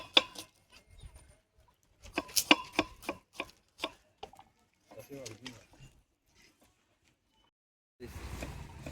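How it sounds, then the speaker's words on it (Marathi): Onions being chopped fast on a board, a rapid run of sharp knife strikes in bursts with pauses, followed by a louder rustling noise near the end. "बघा कांदे कटिंग किती फास्ट होत आहेत ना"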